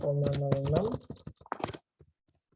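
A person types a root locus command into MATLAB on a computer keyboard, giving a few quick, light key clicks right after a brief stretch of talking, then fading into near silence.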